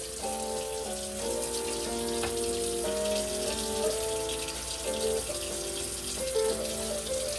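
Water runs steadily from a tap, a continuous hiss with shifting gurgling tones as a vessel fills, fairly close and without talk.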